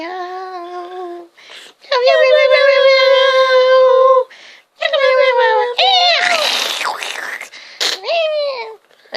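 A voice imitates a cat, a string of drawn-out meows with playful pitch swoops and a few breathy, squeaky bits in between.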